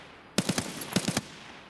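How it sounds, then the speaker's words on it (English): Gunfire in Escape From Tarkov, two quick bursts of three sharp shots each, loud and close, separated by a brief pause. "I've been shot again."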